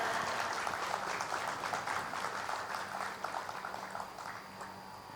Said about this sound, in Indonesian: Boleh berikan tepuk tangan yang luar biasa.